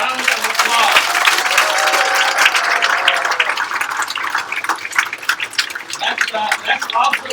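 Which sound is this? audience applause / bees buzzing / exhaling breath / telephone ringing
audience applause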